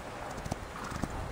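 Horse hooves clip-clopping in the video game Reverse: 1999, a few soft, quick hoofbeats with a faint whinny, quiet and brief over a hissy background.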